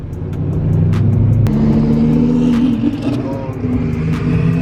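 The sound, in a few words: twin turbo car engine revving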